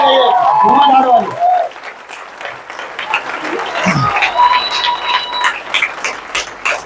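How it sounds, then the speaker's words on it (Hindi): An audience at an RCM business meeting in Maya Nagar, Faridabad, breaks into loud, sustained applause after someone speaks, the clapping filling the room with voices still faintly present underneath. "इधर भी दोनों हाथ ऊपर करके इधर दिल खोल के तालियां बजाइए, धुआंधार वाली।"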